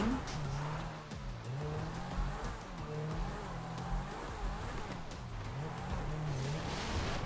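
A Lightning McQueen toy car drives through a mud course with a steady, wavering motor whine and gritty scraping, continuous and close throughout.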